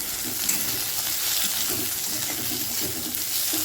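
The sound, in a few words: potato pieces frying with onion in a pan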